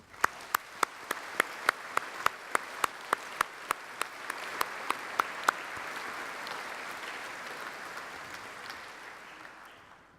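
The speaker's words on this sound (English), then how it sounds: "ask that you join me in applauding thanks to them" Graduation ceremony audience applauds the university staff, a broad wash of clapping with a few sharp, rhythmic claps standing out near the start, swelling and then fading.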